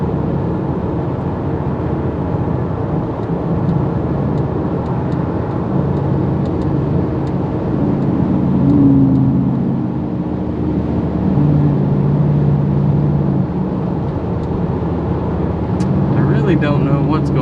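A car cruising along a road, heard from inside as a steady low engine and tyre drone that stays even and fairly loud throughout, swelling slightly midway.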